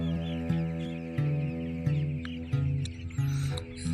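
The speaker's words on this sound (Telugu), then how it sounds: "ప్రతి ఒక్క కోడి నిలబడి మాత్రమే తింటున్నాయి" Chickens on a poultry farm cluck steadily while standing and eating, with repeated low calls and clucks throughout, close and fairly loud, with no talking.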